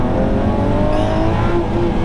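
Lamborghini Aventador Ultimae with a naturally aspirated V12 holding a steady, loud, continuous engine roar under acceleration, with a rising harmonic whine and no voices over it.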